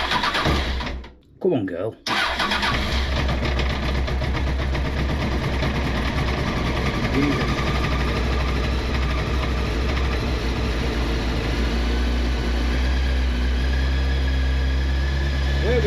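A Honda CBR900RR motorcycle engine cranks, catches after a brief pause and settles into a loud, steady warm-up idle close by, with a voice speaking briefly near the start.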